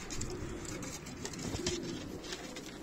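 Pigeons coo softly at close range, low repeated throaty calls over a background of rustling and ambient noise.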